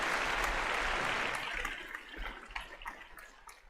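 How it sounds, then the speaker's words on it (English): Applause from a live podcast audience for a departing guest, a broad dense patter that holds steady for about a second and a half, then thins into scattered claps as it fades. "So a big round of applause for Zach."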